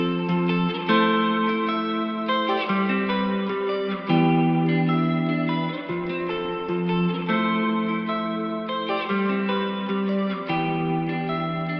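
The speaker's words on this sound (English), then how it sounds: "it kind of adds this wobble vibrato effect" Guitar run through an RC20 Retro Color plugin adding a wobbly vibrato, playing a sustained chordal pop pattern with shifting chords, steady and fairly loud with no talking.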